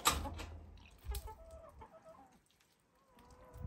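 Chickens cluck close by in a farmyard, a few short bursts of squawking and clucking with quiet gaps between.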